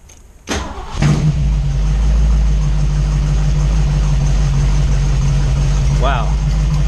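A Sunbeam Tiger fitted with a 289 V8 cranks briefly and fires into a loud, steady idle that settles into a deep rumble, with a short voice heard near the end.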